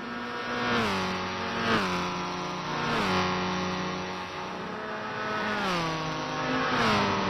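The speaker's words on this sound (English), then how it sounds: "these two are just racing the shit out of each other going through that corner" Race cars in the Tokyo R246 circuit of a GT racing video game, engines whining and shifting through gears as they chase each other through a corner, loud and continuous with repeated revving rises.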